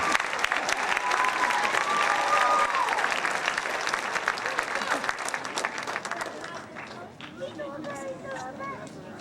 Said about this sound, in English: We get another round of applause for all these fine students.